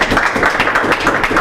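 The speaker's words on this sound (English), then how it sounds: "Let's give a round of applause for Heather." Audience applause for a departing speaker, a dense steady wash of many hands clapping close and loud throughout, with no talk over it.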